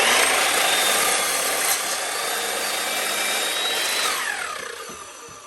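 A miter saw makes a push cut through a wooden board, its loud steady whine running for several seconds before spinning down near the end.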